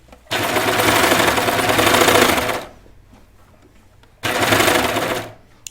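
Sewing machine stitching a knit T-shirt seam: a loud, close run of rapid stitching for about two seconds, a brief lull, then a second shorter burst.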